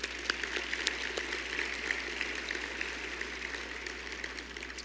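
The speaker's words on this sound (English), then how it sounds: "Please join me in giving these wonderful folks a round of applause." Faint, distant audience applause at a State of the City 2023 gathering in Beaumont, a soft patter of many hands clapping evenly over a low steady hum.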